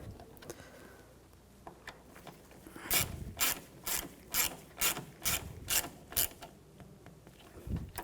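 A ratchet clicks in a quick run of about ten even strokes, close and distinct, tightening a fastener on the coolant reservoir of a 2011-2018 Volkswagen Jetta 2.0L L4, with faint handling noises around it.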